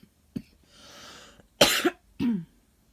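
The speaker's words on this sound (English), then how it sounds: "Excuse me about the coughing." A few close coughs: a small one, a breathy pause, then two louder harsh coughs in quick succession.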